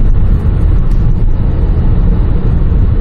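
A 2018 Kia K7 sedan fitted with an aftermarket emissions-reduction and power-boosting device accelerates hard, giving a loud, steady low engine roar and road rumble heard from inside the cabin, without talk.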